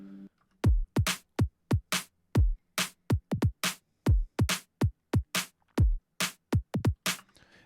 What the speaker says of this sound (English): These are the main drums.